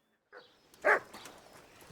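A dog barks in a medieval town in Kingdom Come Deliverance, one short loud bark after a couple of softer yips, close by and alone.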